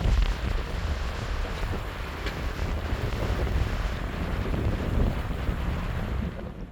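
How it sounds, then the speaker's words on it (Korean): Strong wind roars steadily beside the Geum River on a snowy day, a constant broadband rush and buffeting across the microphone with no voices. "오늘 바람이 제법 많이 불고"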